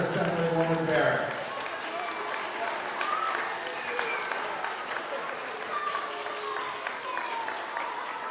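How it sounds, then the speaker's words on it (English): An audience applauds at a school Earth Day event, a sustained wash of clapping from many hands that starts with a brief voice and then carries on evenly to the end. "Big round of applause for Assemblywoman Barrett."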